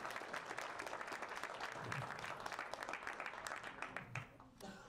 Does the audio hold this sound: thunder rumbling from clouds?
no